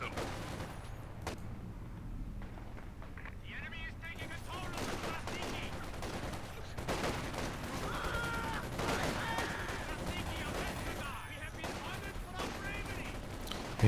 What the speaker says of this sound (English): Two MG34s, that's quite a lot of suppression